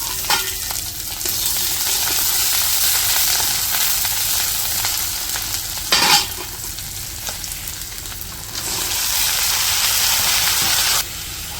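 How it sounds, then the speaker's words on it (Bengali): Onions sizzle in hot oil in a pan, a loud, continuous frying hiss with a few louder bursts where they are stirred, and no talking over it. "তেল দিয়ে দিচ্ছি, এখন পেঁয়াজ দিয়ে দিলাম।"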